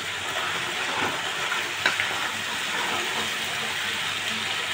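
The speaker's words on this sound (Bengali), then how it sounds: "বেগুন, আলু, মটরশুঁটি, বিনস, গাজর সব দিয়ে দিচ্ছি" Chopped eggplant, potato, peas, beans and carrot fry in a pan of oil for a Bengali mixed vegetable dish, giving a steady close sizzle with a couple of small clatters.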